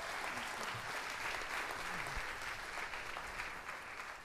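An audience applauds a speaker at an evening low-carb conference session in Houston, a steady, even wash of many hands clapping at moderate distance, with no voices over it.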